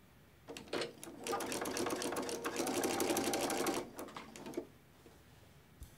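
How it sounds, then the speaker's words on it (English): A sewing machine runs steadily for about three seconds, stitching along the edge of quilt binding with a quarter-inch seam, its rapid mechanical whir close and loud before stopping, followed by a couple of faint handling clicks. "we're going to start sewing right on the edge of our binding and just continue sewing with a 1/4 inch seam"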